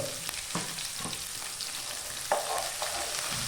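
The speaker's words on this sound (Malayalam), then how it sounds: "ഒരു രണ്ട് മീഡിയം സൈസ് സവോള നീളത്തിൽ അരിഞ്ഞതിടുക" Two medium onions, sliced lengthwise, fry and are stirred in a pan for coconut chicken curry, a steady close sizzle broken by several light spoon clicks and scrapes, with no voices.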